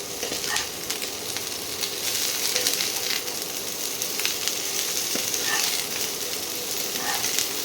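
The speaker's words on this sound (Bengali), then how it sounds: "ফুলকপিগুলো একটু ভেজে নিই, ওই লাল লাল করে নয়, অল্প একটু ভেজে নিতে হবে।" Steady, close sizzling of cauliflower lightly frying in a hot pan, a continuous crackling hiss with faint clinks and stirring, no voices.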